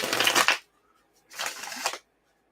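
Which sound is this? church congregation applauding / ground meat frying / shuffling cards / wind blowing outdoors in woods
shuffling cards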